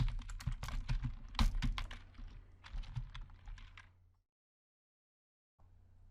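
Someone types Python code on a computer keyboard in a rapid run of close, crisp keystrokes for about four seconds, then falls silent before a faint hum returns.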